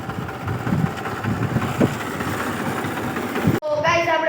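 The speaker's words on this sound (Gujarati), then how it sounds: "ટ્રેક્ટર એમને મૂકી દીધું છે. હું એટલો ઉતરી ગયો એમને હાલે છે." A farm tractor engine idles with a steady low rumble under a person's talk, then cuts off abruptly near the end.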